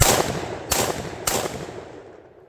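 A Walmart-bought shotgun fires three shells at a slow, even pace, each a loud sharp blast with a decaying outdoor tail, spaced about half a second apart before the sound fades away.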